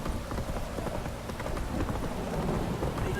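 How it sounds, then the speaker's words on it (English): Heavy rain in The Witcher 3: Wild Hunt pours steadily in a dense, constant hiss with patters of drops, loud and unbroken throughout. "This downpour's a bastard"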